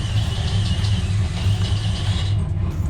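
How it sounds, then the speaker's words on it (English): A 2018 Toyota Tacoma pickup's engine rumbles steadily close by, a low pulsing drone held at an even idle-like level throughout with no voices. "Guys, listen to this truck."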